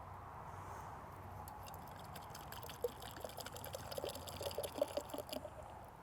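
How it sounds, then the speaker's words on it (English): Wood stain is poured from a container for a deck project, a faint, steady liquid trickle that grows slightly louder and splashier toward the end, with no talking. "Pour in this direction, it says right there."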